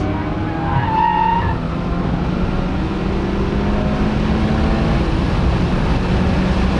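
Toyota GR86 sliding sideways on a race track, tires squealing in a long continuous screech over steady engine drone, heard from inside the car with no talk.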